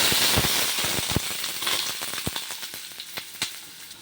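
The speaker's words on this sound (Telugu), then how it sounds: "ఆయిల్ వేడెక్కింది. ఆవాలు, వేపాకు, ఆనియన్స్ వేసేసుకోవాలి." Mustard seeds, curry leaves and onions dropped into hot oil for panganalu, a loud burst of crackling and popping that settles into a steady sizzle with scattered sharp pops.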